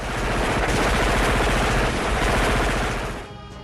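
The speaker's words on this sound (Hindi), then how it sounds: "जगह जगह धमाके हो रहे हैं" War footage from Ukraine carries loud, dense gunfire and blasts in a continuous rapid barrage that fills the scene, then fades sharply near the end.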